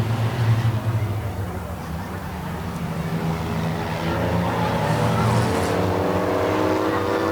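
Race cars roar around a track during the final lap of a TSS heat race, a dense, continuous engine drone at moderate distance, with a commentator talking over it.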